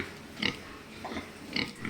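Pigs on a pig farm in the Philippines grunting close by, several short, rough oinks spaced about half a second apart over a quiet pen hum, with no speech.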